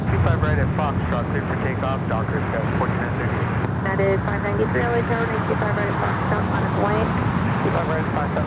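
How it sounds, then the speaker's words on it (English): A SkyLease Cargo Boeing 747 freighter taxis at LAX, its engines giving a steady, loud roar with a whining tone throughout, while people talk nearby. "We got one more Queen. Skylace Cargo. Should be starting her taxi here shortly."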